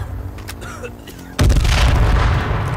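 A grenade explodes in H1Z1 Battle Royale, a sudden loud boom after a quieter stretch with faint sounds, followed by a long rumbling tail.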